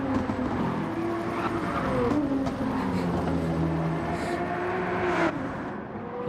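A Nissan race car engine in a racing video game at Deep Forest Raceway, a sustained loud drone with rising and falling pitch as the car accelerates and shifts, other cars faintly audible around it.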